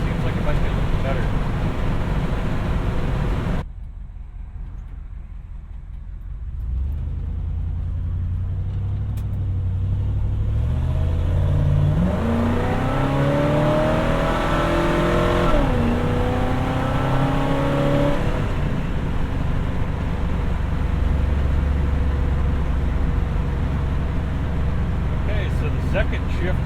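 A 1970 Chevelle SS V8 roars and climbs in pitch as it accelerates hard through gear shifts on the road, with a brief drop in engine note at each shift, loud and close inside the car with some talk over it.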